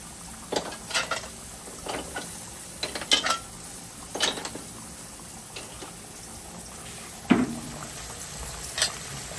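A utensil stirs native chicken curry in a pot, making irregular clanks and scrapes against the metal at close range over a faint background sizzle.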